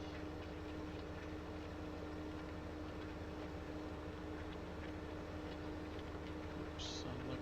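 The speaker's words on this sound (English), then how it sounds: "sounds like a train" A train rumbles past in Farming Simulator 15, a steady low mechanical drone with constant rolling noise over a faint tonal hum, heard at moderate distance without pauses.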